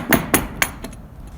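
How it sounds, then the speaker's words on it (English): Chisel strikes chipping small bites out of wood for a rabbet joint: three sharp, close taps in quick succession, then a couple of fainter knocks fading into quiet. "I'm just going to take small bites and I'm going to chip that up."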